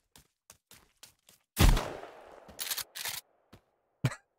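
Shotgun firing slug rounds in Sons of the Forest: one loud, sharp blast with a decaying tail, followed by two shorter bursts and several faint clicks and handling sounds before a final short report.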